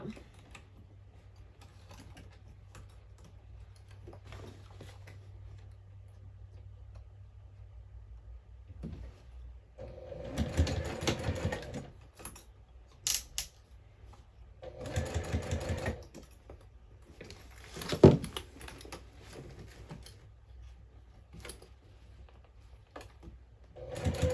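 A sewing machine stitches over a bag strap still holding double-sided tape, running in short bursts that are loud and near, with quiet pauses between them.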